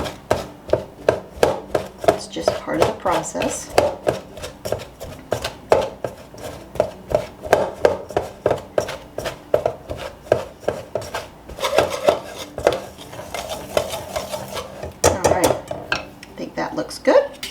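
A pastry blender cuts butter into sourdough biscuit dough in a bowl with a rapid series of rhythmic chopping thuds and metallic clinks, close and loud, and a voice briefly speaks partway through.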